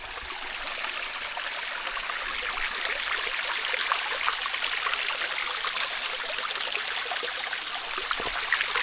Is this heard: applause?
no